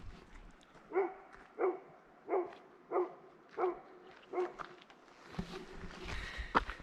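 Dogs bark on a hiking trail by a marsh, near Redfish Lake on the Fishhook Creek loop. Six evenly spaced barks come from close range, followed by rustling and a higher yip at the end.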